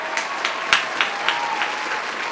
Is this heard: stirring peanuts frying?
no